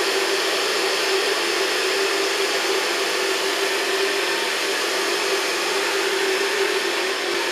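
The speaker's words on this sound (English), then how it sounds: "And just blow dry it in the natural fall." A hair dryer runs continuously while blow drying short hair, a steady loud whooshing hum with a constant tone and no breaks or voices.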